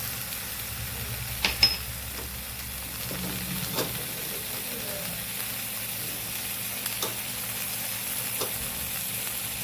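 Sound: ginger-chili paste sizzling in frying pan for patra

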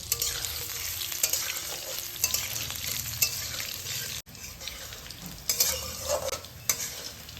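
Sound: potatoes frying in oil until reddish

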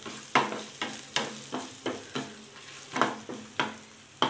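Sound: stirring and frying pongal seasoning in a pan

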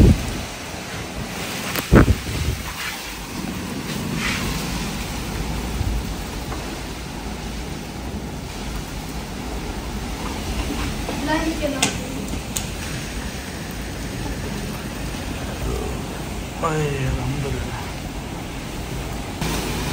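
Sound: heavy rain and strong wind

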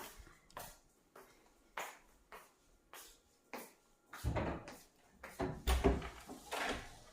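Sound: gate door being opened

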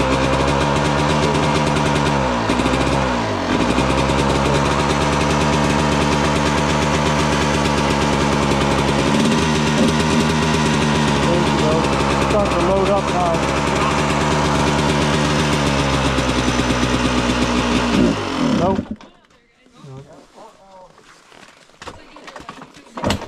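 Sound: dune buggy engine idling on choke

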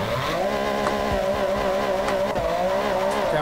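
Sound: car tires squealing while drifting in a JDM racing video game

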